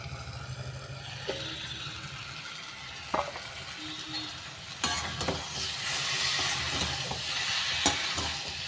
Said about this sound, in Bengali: দেখুন মশলাটা একদম সুন্দর করে ভাজা হয়ে গেছে